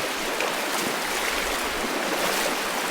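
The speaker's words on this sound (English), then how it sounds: "this here, you are in the creek while you're crossing it." Creek water rushes steadily around a hiker wading across a stream on the Caldwell Fork Trail in the Great Smoky Mountains, a close, loud, continuous broadband wash without pause.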